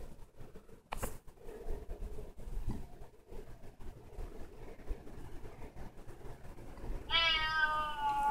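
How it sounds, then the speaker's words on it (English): A cat gives a single clear meow near the end, following quiet background rustling and a couple of soft thumps. "It meows."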